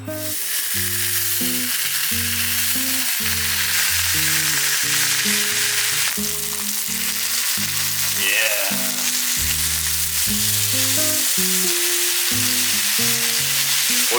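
Samgyeopsal pork belly sizzles steadily on a grill, a loud, continuous crackle beneath background music, with no talking.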